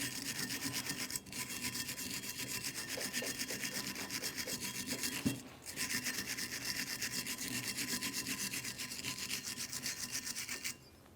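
A wire brush scrubs the caliper bracket mounting points on the rear brakes of a 2010-2013 Kia Forte Koup. The scraping is steady, close and raspy, and it runs nearly unbroken with two brief pauses.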